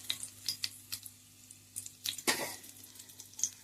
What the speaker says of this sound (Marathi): तर आता मी फोडणी घालतोय.